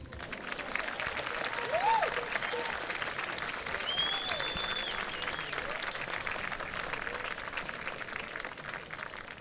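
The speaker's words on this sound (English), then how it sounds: "applause is appropriate" A crowd at a high school football game between Wayne Hills and Northern Highlands claps in a steady, dense wash of applause that holds for about nine seconds, with a faint murmur of voices underneath.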